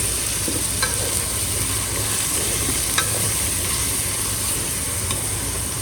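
Garlic and ginger being stirred in a hot pan for Kerala-style beef fry: a continuous close sizzle broken by occasional light spoon taps against the pan.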